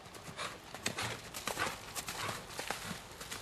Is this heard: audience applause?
no